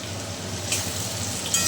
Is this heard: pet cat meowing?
no